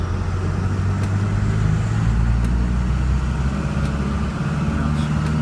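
A 1971 Ford F250 with a 4BT Cummins diesel engine and a 5-speed gearbox pulls along in third gear, giving a steady, loud, low engine drone heard from inside the cab.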